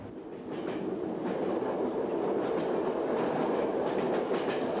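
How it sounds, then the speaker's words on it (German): A Berlin S-Bahn train running on its tracks, steady rumble with rhythmic clickety-clack of wheels over rail joints, close and continuous, no talking. "Ich fahre doch oft mit der S-Bahn rüber nach West-Berlin."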